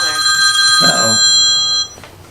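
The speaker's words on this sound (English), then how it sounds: "We have a phone call interrupting the set here." A telephone rings loudly with a sustained electronic tone during a podcast, briefly overlapped by a voice, then cuts off abruptly.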